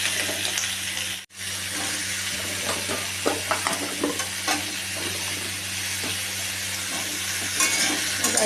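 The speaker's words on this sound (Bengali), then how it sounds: "ভালোভাবে নাড়তে নাড়তে ভেজে নেব" Potato and pumpkin pieces stirred and fried in a pan give a steady sizzle with scraping and clattering stir strokes throughout, briefly cut near the start, with no talking.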